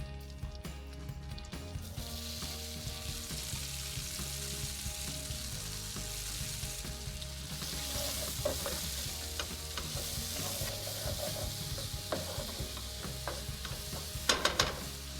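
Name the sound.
curry leaves sizzling and being stirred in hot oil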